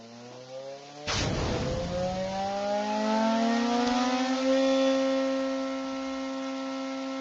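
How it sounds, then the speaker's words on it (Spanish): An electric starter motor cranks an engine in an electromechanical engineering lab, first a low hum, then a sudden burst as the engine catches and settles into a steady rising whine that fades slightly. "lo que hace ahí el operador es le da arranque al motor"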